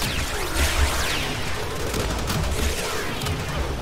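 Gyre's electric orb in the video game Warframe zaps enemies with steady crackling electrical bursts and rapid popping discharges, a dense continuous barrage layered with rumbling combat noise.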